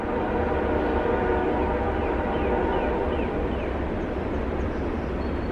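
A train rolls past close by, a continuous heavy rumble and rattle that stays loud throughout.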